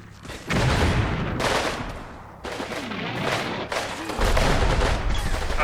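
Artillery in Combat Mission Red Thunder thunders in repeated heavy blasts and rumbling bursts, several distinct booms spaced a second or so apart over continuous battlefield noise.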